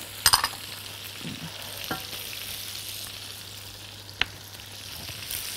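Butter, a stock cube and thyme sizzle in a pan: a close, steady fizzing hiss with a few sharp clinks and scrapes of a utensil, and no voices.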